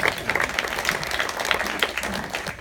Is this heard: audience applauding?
yes